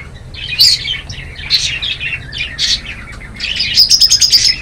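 Pet budgerigars in a Jeddah aviary chirp and tweet in quick, bright bursts, close and fairly loud, over a low background hum, without speech.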